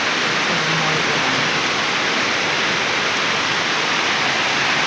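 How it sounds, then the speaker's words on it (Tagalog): Heavy rain pours during a power outage in a rural Philippine province, a loud, unbroken, dense hiss of falling water that fills the whole stretch. "Tapos, lumagdag pang ulan."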